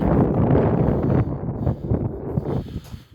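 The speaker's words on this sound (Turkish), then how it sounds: "Şu an Acayip rüzgar alıyor" Heavy wind at a campsite on Seyrek beach, Kocaeli, Turkey, buffets the microphone in strong gusts, loud at first and then easing into fitful bursts.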